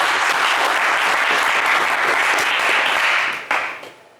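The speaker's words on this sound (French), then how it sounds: "on vous applaudit tout de même très très fort" Studio audience at the French TV game show Le Coffre Magic applauds loudly and continuously, a dense wash of clapping that drops off abruptly near the end.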